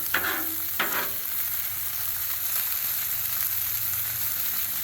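Teriyaki chicken sizzling on a Blackstone griddle, a steady close hiss of frying throughout with a couple of brief scraping sounds near the start and no talking.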